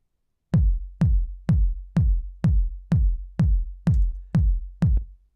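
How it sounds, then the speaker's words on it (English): Analog synth kick drum for old school house, ten evenly spaced round, booming hits with quick decaying tails, played alone at a steady tempo. "So I'll go for an analog kick"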